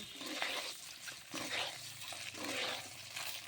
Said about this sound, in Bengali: প্রথমে কড়াইতে তেল দিয়ে ডিমগুলো ভেজে নেব